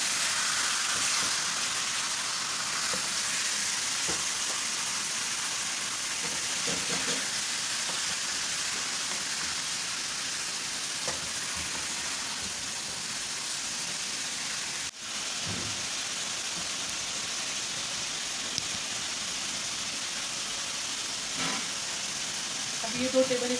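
Chicken frying in hot oil, a dense, continuous hiss and crackle that holds steady throughout, with occasional soft clinks and spoon movements in the pan.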